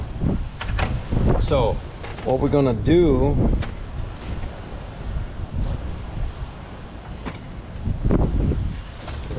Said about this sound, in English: Sorry, it just got windy here.